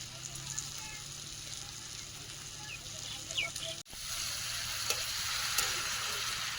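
Meat sizzles and fries as it is stirred in a pan, a steady close hiss with a few scraping stir sounds and a short break partway through.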